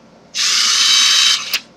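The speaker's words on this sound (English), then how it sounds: "I got my drill" A power drill bores out a metal drip tip in one loud, close, high-pitched whir lasting about a second, followed by a brief second tap of the bit.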